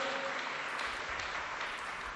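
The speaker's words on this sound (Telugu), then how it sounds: "చప్పట్లు గట్టి కొడదామా?" A church congregation claps during a sermon, a steady wash of many hands that sounds somewhat distant and moderately quiet, with no talk over it.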